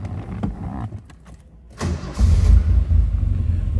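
A 1985 TVR 280i convertible engine starting: starter cranking, then the engine catching into a loud, steady idle close by, with no talking.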